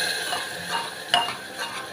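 A spoon stirs tomato-puree masala gravy for a corn and potato curry in a cooker, producing soft scraping and a faint sizzle with one sharper clink of metal midway.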